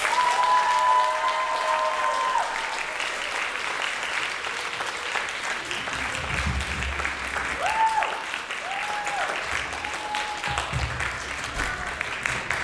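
Sustained applause from a high school drama audience as the full cast, stage crew and directors take a company bow after a modern Christmas Carol production, steady dense clapping filling the whole stretch with a few whistle-like tones over it.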